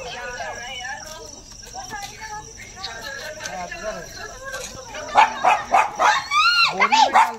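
A dog barks in a quick run of sharp, fairly close barks near the end, over a busy outdoor background of voices and insect chirring in a city colony during a rock python rescue.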